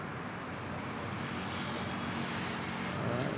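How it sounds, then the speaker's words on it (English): Steady aircraft engine rumble, faint and distant, at Manila Airport, fitting a Black Hawk helicopter holding nearby amid airport traffic noise, continuous with no speech. "And yeah, the chopper's still there."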